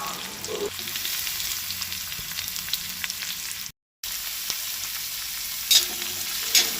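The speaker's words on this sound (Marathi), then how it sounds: "आता तो तेलार बरो तळसून घेवपाक जाय।" Chopped onions fry in oil for a Goan potato dish, a constant crackling sizzle with occasional spoon taps, briefly cut to silence midway, then resuming with a couple of sharper clinks.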